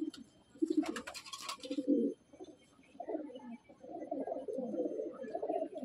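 Madrasi Andhra pigeons of an old bloodline in a loft, giving low, soft cooing calls that run on almost steadily, with a brief brighter fluttering burst near the start.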